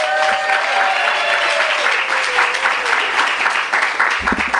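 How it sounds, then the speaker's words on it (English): An audience at a book presentation gives a warm round of applause for authors Kate Schatz and Miriam Klein Stahl, a loud, steady wash of clapping that holds across the clip, with a faint tone and a brief thump near the end. "Please give a warm round of applause to Kate and Miriam."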